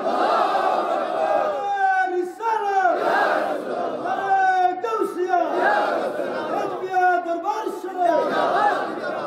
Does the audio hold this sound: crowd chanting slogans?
yes